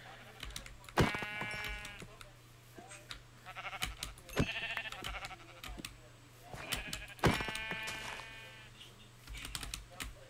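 Sheep in the Minecraft video game let out several short, quavering bleats at irregular intervals over clattering computer keyboard typing and a low hum.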